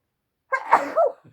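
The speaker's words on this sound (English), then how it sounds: "I'm going to sneeze, excuse me." A single loud, close sneeze bursting out after a moment of silence, with a small breathy trailing sound at the end.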